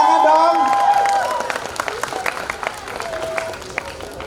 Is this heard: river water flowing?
no